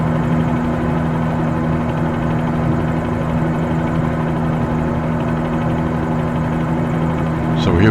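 Steady helicopter engine and rotor drone from a flight simulator, flying over Dubai's city, holding a continuous loud hum throughout with a slight swell at the very end.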